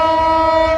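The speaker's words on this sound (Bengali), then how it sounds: "বড় বড় হুইসেল দিচ্ছে" The Burimari Express sounds a steady, loud whistle at Joydebpur Junction, a single sustained tone held close and unbroken.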